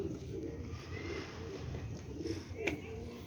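Golden pigeons coo softly in low, rolling murmurs close by, with faint background noise and a brief sharp click near the end.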